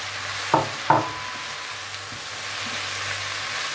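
Pork and zucchini stir-fry in a wok with a low continuous sizzle, punctuated by two sharp utensil clacks early on as the food is tossed, then settling into quiet frying.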